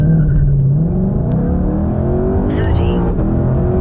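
A 2020 Ford Shelby GT500 engine accelerates, its loud, close roar rising steadily in pitch as the car pulls hard through the full few seconds.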